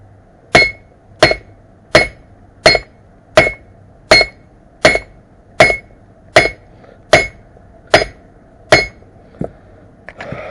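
A small hammer strikes metal during an ABS repair on a Renault Clio, about thirteen sharp, evenly spaced metallic blows, close and loud, with no talking.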